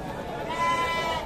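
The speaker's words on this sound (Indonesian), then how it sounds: "Ini kambingnya." A sheep or goat bleats at the Ampel livestock market, a wavering nasal call that rises out of the crowd noise and background chatter of the busy market.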